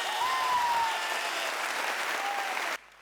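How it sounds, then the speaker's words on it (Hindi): An audience gives loud applause at a motivational public talk, a thick burst of many clapping hands with a faint voice briefly over it, cut off sharply near the end. "तो आरएमपी के लिए जोरदार ताली हो जाए"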